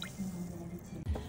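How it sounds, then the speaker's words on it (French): Water poured into an onion container while cooking, a brief quiet trickle and drip with a soft splashy squish near the end, heard alone without talk. "j'ai mis de l'eau dans le truc à oignon"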